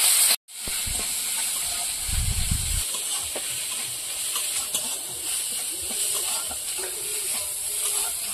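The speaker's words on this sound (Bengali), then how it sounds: "চিংড়ি মাছটা লবণ হলুদ দিয়ে ভেজে নেবো" Prawns frying with salt and turmeric in a pan on a wood-fired clay stove, giving a steady broad hiss and sizzle with a few soft stirring knocks, heard close and without talking.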